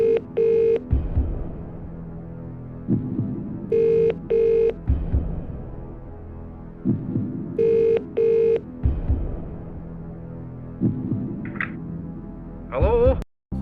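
Phone-a-friend call in the Who Wants to Be a Millionaire: 2nd Edition video game, with a repeating telephone ring tone in double bursts over a tense, pulsing music bed, ending in a brief electronic chirp.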